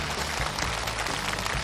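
Studio audience applause at a CCTV gala show greeting Yu Yuexian's team, a dense, steady wash of clapping filling the whole short stretch without talk.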